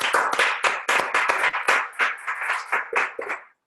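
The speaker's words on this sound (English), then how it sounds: "Can we clap for Talisha?" A small audience claps for a participant named Talisha, giving a short burst of brisk, close, uneven hand claps that stops abruptly.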